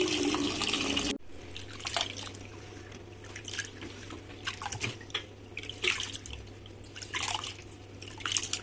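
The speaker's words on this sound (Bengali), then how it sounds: "খুদের ভাকার জন্য খুদের চাল ধোয়া হচ্ছে।" Broken rice grains being rinsed in water by hand, giving soft irregular drips, trickles and splashes close by, with a steady low hum running underneath and no talking.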